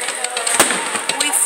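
Festival fireworks over the 2016 Sternwheel Festival in Marietta, Ohio: a rapid string of sharp crackling bursts and pops, loud and fairly near, over a continuous fizzing hiss.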